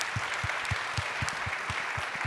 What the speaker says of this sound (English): Round of applause to these two.